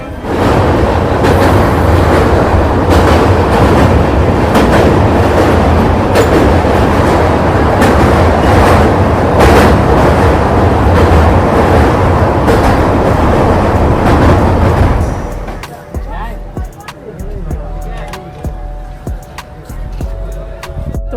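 A passenger train running from Malda toward New Farakka Junction gives a loud, continuous close rumble with rhythmic wheel clatter for about fifteen seconds, then drops to quieter creaks and clanks as it slows.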